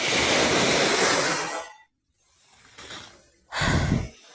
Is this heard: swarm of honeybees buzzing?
no